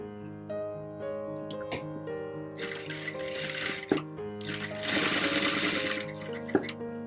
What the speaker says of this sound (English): So then only you can able to do these type of stitches very neatly.